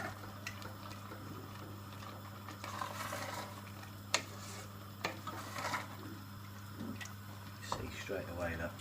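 Red onion chutney is stirred in a pan after malt, red wine and balsamic vinegars and sugar go in. Scattered scrapes and clinks of a spoon against the pan sit over a steady low hum.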